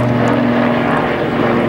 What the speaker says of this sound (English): plane has been being escorted by this helicopter here